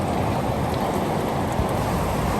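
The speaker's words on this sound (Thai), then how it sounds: "มันมากเนี่ยน้ำไหลไม่ทันเลยครับน้ำไหลไม่ทันเลย" Floodwater rushes during Typhoon Danas in Taiwan as a dense, steady roaring wash of water, loud and close, with no voices over it.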